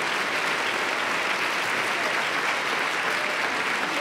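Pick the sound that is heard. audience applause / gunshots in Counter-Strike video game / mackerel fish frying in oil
audience applause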